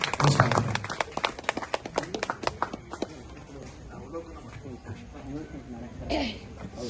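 An audience at a book release bursts into applause, with dense, loud clapping that thins into scattered claps and fades, followed by murmuring voices.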